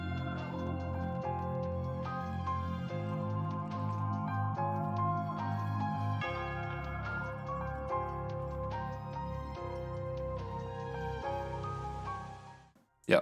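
A dark, moody melody beat plays without a mastering chain: layered sustained keys and low bass notes shifting every couple of seconds, with a steady even level throughout before it cuts off near the end.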